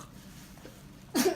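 A single sharp sneeze bursts out near the end after a quiet indoor stretch in a home kitchen while a cake is being baked.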